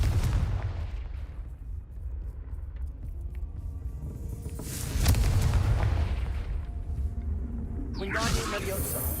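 The Confringo fire spell explodes in the wizarding game Hogwarts Legacy, with deep booming rumbles and a swelling blast midway under ongoing voice lines and game ambience.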